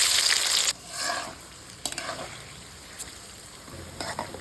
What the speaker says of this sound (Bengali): এখন আমি এর মধ্যে পেঁয়াজগুলো ভেজে নেব ব্রাউন কালার করে।